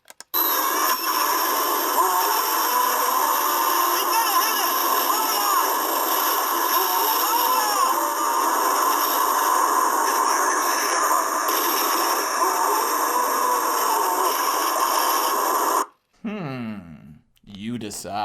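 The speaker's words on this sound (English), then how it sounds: "this is the sound of that shark from Jaws: The Revenge" Shark roar sound effect from Jaws: The Revenge, a dense, loud, sustained growling roar with wavering tones that holds steady for about sixteen seconds, then breaks into a few short fading bursts.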